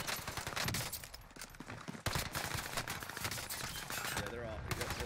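Sniper shots and gunfire in the battle royale game Call of Duty Warzone Rebirth, rapid irregular bursts of loud close shots with a sharp crack near the middle, while players talk over the shooting.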